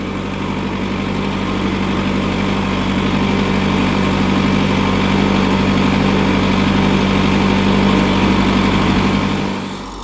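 A Kubota MU5501 55 hp four-wheel-drive tractor with about 1200 running hours idles steadily up close, giving a low, even diesel hum with a constant throb that fades slightly near the end.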